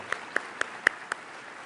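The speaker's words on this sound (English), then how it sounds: "I think they all deserve a great a round of applause." Hand claps at a 2022 academic awards celebration honoring teachers: five sharp, evenly spaced claps, close and distinct, with quiet gaps between them.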